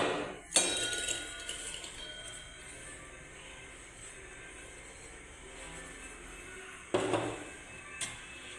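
Old brass tumblers clink together as they are handled, with two distinct ringing metallic knocks several seconds apart, each leaving a bright shimmering tail, and quiet handling noise between them.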